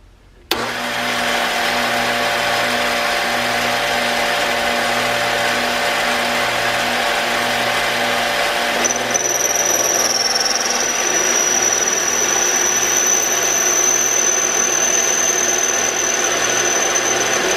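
A metal lathe runs with a steady, loud motor hum while turning a part down to size for an arbor press modification, and a thin, high cutting whine joins about halfway through and holds to the end.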